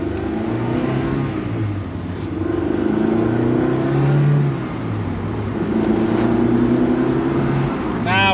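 A Honda S2000 sports car with a 6-speed gearbox revs and accelerates through rising and falling engine tones, loud and close from inside the cabin, with people talking over it.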